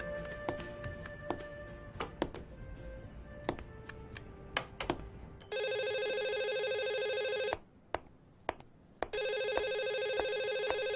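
A telephone rings during a call, heard as two sustained electronic ring bursts separated by a short gap, preceded by light clicking like keys being tapped.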